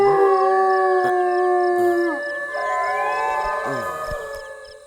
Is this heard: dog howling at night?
yes